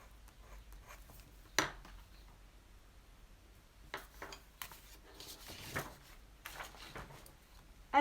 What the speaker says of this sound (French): on pourrait aller embosser un peu cette partie-là